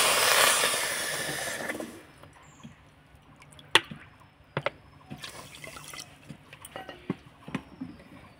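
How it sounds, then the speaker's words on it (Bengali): Water is poured from a bowl into a pan with sugar for syrup: a loud splashing gush for about two seconds, then stops, followed by scattered drips and small clinks close by. "আর একই বাটি মাপ করে দিয়ে দেবো আমি এখানে 2 বাটি জল।"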